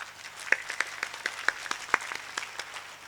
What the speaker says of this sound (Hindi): ताली कम बजाई आपने